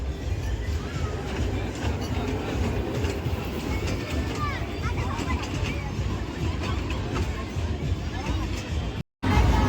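A toy train ride at a crowded village fair (jatra) rumbles steadily with rhythmic clatter, mixed with a constant crowd hubbub and nearby talking.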